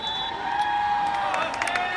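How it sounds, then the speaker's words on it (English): Crowd at a high school football game applauding and cheering for the 3rd and 4th grade cheerleaders, a steady wash of clapping and scattered whoops, heard at a distance over a sustained tonal hum. "One more time, a big round of applause for the 3rd,"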